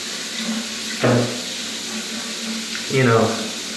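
Shower water runs steadily in a bathroom, a constant rushing hiss with two brief louder splashing surges, as if something passes through the spray.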